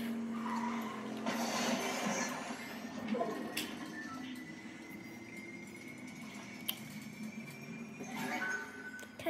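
A car in the video game Fortnite drives steadily with a continuous engine drone and skids, tires squealing in streaks over about nine seconds, fairly loud and with no talking.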